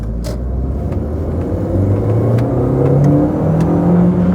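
An Audi TT 225 engine roars hard through a launch, a loud, steady, rising rumble that climbs in pitch, heard close and alone with no talk.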